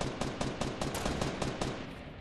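A minigun fires in a video game, a steady rapid stream of evenly spaced loud shots running continuously for about two seconds, with no voices.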